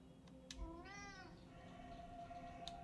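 A cat meowing in the video game Moonscars, a single drawn-out rising and falling meow heard fairly clearly over a low game ambience, with a couple of brief sharp clicks around it.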